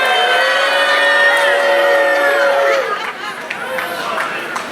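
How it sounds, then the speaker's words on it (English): A wrestling show crowd cheers and shouts loudly in a dense burst of voices, then fades slightly into scattered whoops and chatter. "You have one more opportunity to cheer for me correctly."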